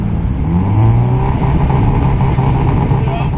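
A rally car engine revs loudly and close at a Northwest stage noise emissions test, a sustained rough roar that climbs in pitch, with no talking.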